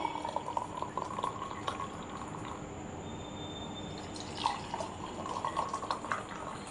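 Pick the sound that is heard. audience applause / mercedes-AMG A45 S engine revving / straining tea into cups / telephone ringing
straining tea into cups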